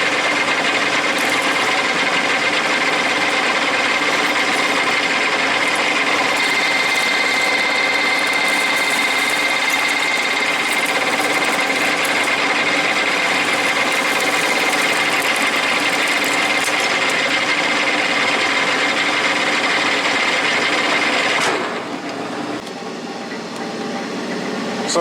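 A manual lathe cuts metal in high range, a loud, steady machining whine with continuous grinding texture that holds for about twenty seconds before dropping away near the end.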